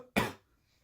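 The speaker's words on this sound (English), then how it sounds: "I'm gonna cough again." A single short, close cough from a person with a bad cough, a sharp burst that fades quickly into quiet.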